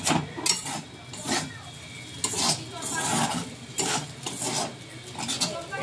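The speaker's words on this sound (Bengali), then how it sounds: "চাউমিনটা এবার হয়ে গেছে, তো এবার থালায় ঢেলে নেব।" Homemade chow mein is scraped and tipped from a metal pan onto a plate, with irregular bursts of utensil scraping and clatter at close range and some talk in between.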